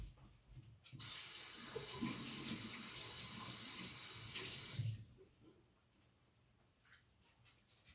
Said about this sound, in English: I just had to rinse my mouth out because I still had caramel on my teeth